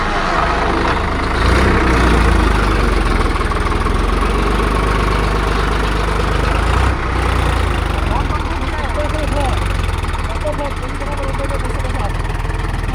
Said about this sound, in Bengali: এই ইঞ্জিনটা উঠে গেল, ট্রলিটা বসে আছে যে